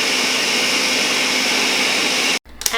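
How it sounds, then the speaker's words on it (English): A blender whirs steadily as it purees Thai coconut pancake batter, a loud, even motor roar that holds for over two seconds before cutting off abruptly, followed by a brief clatter. "I'm gonna blend everything until it comes smooth"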